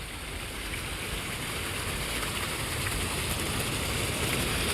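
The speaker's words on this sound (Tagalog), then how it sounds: "Kapag marinig mo ang lagaslas ng tubig, yan ay mo yung talagang napaka-relaxing." Fountain water splashing steadily beside the Pasig River, a dense, loud, continuous wash of spray and falling water with no talk.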